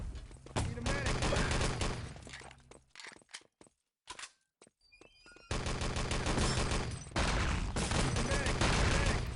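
Automatic gunfire in the first-person shooter game Enemy Territory, including MP40 submachine gun fire, dense loud sustained bursts with a brief lull of scattered single shots before the fire resumes.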